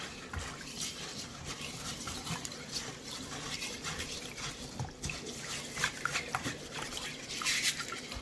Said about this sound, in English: There'll be a lot of particles and whatnot that I want to get rinsed off.